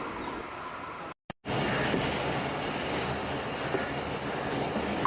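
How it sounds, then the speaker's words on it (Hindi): Pakistan Railway 7up Tezgaam express train rolling along the rails out of a junction yard, a steady loud rumble with faint clickety-clack, broken by a brief drop to near silence early on, no voices. "हमारी ट्रेन भी चल पड़ी है"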